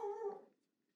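A dog gives a single close, high whimpering whine that fades out quickly into quiet.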